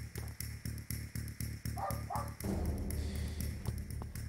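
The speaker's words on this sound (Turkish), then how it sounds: "Ve bir köpek var" A dog barks in the Potentia video game inside an ordinary apartment, a couple of short yips over a steady rhythmic ticking background, fairly quiet and with no talk.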